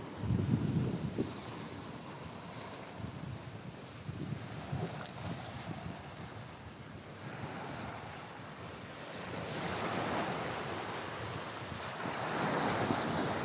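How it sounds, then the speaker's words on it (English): Ocean surf rolls in and breaks in soft, uneven surges, heard from a distance under gusty wind buffeting the microphone, swelling louder toward the end. "The surf's up,"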